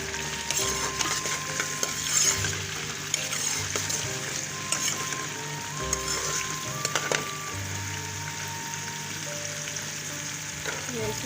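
Onions with nigella seeds, turmeric and chicken masala fry loudly in a pan for a chicken liver and peas dish, a dense crackling sizzle broken by repeated spoon scrapes and clinks.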